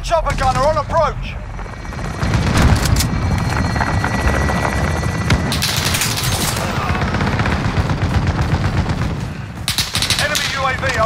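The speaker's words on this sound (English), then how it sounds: "Enemy chopper gunner on approach." An enemy chopper gunner attack in Call of Duty Modern Warfare brings a loud, steady helicopter rotor drone with continuous machine-gun fire and scattered shots, and voices from the game can be heard under the noise.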